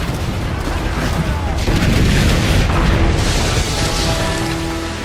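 Broadside cannon fire from a ship in a Caribbean pirate game: deep, rumbling booms roll together into a heavy continuous barrage, with low thuds and a swell of blasts through the middle before easing slightly.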